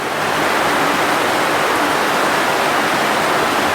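Water rushing steadily through a creek culvert, a dense, echoing roar that stays loud and unbroken throughout with no voices.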